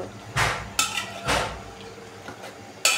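Bottle gourd curry being stirred in a cooking pot: a few separate scraping clanks of a utensil against the pot, spaced irregularly, close and fairly loud, with low kitchen background between.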